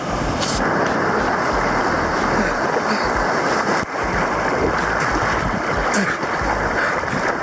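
Ocean surf washing along the shore of the North Coast Trail, a steady broadband roar with wind buffeting the microphone, loud and continuous throughout with no voices.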